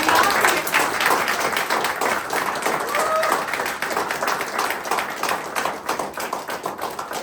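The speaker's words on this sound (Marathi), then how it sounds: "एकदा जोरदार टाळ्या आपल्या" Studio audience clapping loudly, with individual claps distinct within a dense, energetic patter that stays strong and slowly thins toward the end, with voices mixed in.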